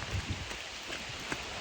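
Steady rain falling outdoors on a cold day, a soft continuous hiss with faint scattered drops, no voices.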